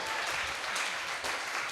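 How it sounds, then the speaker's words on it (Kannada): A church congregation at a Friday prayer service claps together in a brief, continuous burst of close, dense applause with no voices over it. "ಚಪ್ಪಾಳೆ ತಟ್ರಿ, ಪಕ್ಕದಲ್ಲಿ ಹೊಡೀರಿ, ಅವ್ರಿಗೆ ಹೊಡೀರಿ, ಚಪ್ಪಾಳೆ ಟ್ಯಾಪ್ ಮಾಡಿ"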